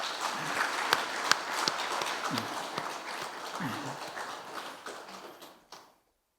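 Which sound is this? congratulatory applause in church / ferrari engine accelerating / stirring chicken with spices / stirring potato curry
congratulatory applause in church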